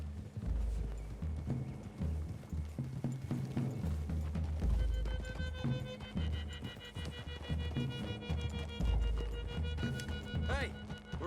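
Horses' hooves clip-clop at a walk through trees in Red Dead Redemption 2, a steady soft beat under game dialogue and background music.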